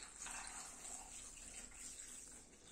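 Water poured over stuffed vine leaves of fresh grape leaves in a cooking pot, a steady close splashing gush running unbroken for a few seconds with no talk.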